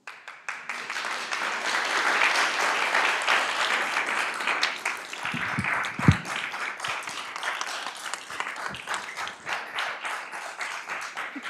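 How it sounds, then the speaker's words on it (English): Applause from an audience after a talk on sustainable systems design fills the room, many hands clapping in a steady, moderately distant wash that holds for around eleven seconds, with a single louder knock partway through. "Look at that applause."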